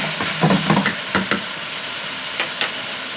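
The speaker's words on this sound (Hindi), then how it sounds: "आपने अच्छे तरीके से इसको फ्राई कर लेना चिकन को।" Chicken frying for degi korma sizzles steadily in the pan, with irregular bursts of stirring and scraping over the crackle and no talking.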